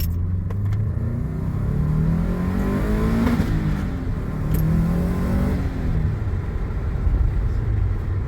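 A Subaru WRX STI engine revs and drops repeatedly, a rough, throaty roar with a raspy, leaky exhaust note from an exhaust leak, steady and fairly close.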